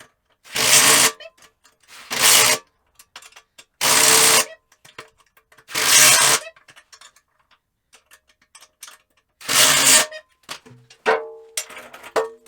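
Five evenly spaced bursts of a power tool tightening bolts on the casters of a motorcycle dolly, each roughly a second long with short pauses between, ending in lighter mechanical clatter.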